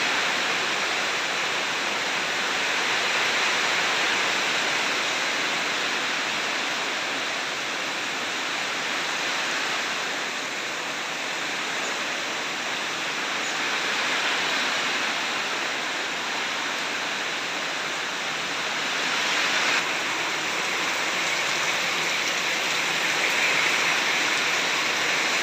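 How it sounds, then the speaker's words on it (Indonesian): First rain of the season falling steadily over a village in Ponorogo, a continuous broadband hiss of rainfall at even loudness throughout, with no voices. "Hujan pertama."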